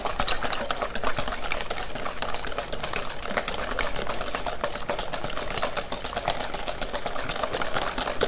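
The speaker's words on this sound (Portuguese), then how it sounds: "A gente vai pegar um fouet, um batedor de arame, e vai, em um minutinho aqui, bater essa mistura." A wire whisk beats brownie batter in a bowl, giving a steady, fast, scratchy rhythmic swishing that stays close and loud throughout without pause.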